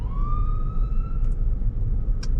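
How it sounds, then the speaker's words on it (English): A police or ambulance siren wails from outside a moving car during a drive past grocery stores and shopping centers, one rising tone holding steady over the loud road and engine rumble. "I hear a police siren or an ambulance."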